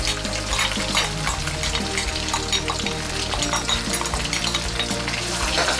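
Garlic sizzles in hot oil in a pan for Filipino beef kilawin, a dense, steady crackle with occasional scrapes of stirring, close and continuous, with no talk.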